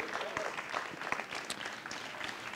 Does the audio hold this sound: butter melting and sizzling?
no